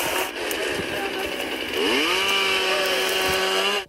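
A chainsaw runs steadily through tamarisk trees being cut down in a canyon riverside clearing, its engine loud and close, revving up in pitch partway through before cutting off abruptly at the end.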